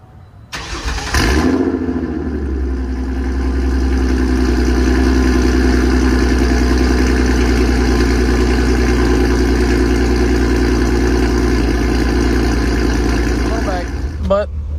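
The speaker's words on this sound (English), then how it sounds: "Not a lot of V6 cars are this loud." A loud V6 car engine cranks and fires, then settles into a steady rumbling idle that holds for over ten seconds before a brief change near the end.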